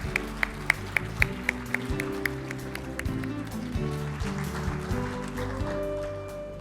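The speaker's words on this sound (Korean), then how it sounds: "앞쪽으로 모실 때 큰 박수 부탁드릴게요." Audience clapping at a financial strategy forum as a speaker is brought forward, fairly faint and mixed under steady background music with a regular beat.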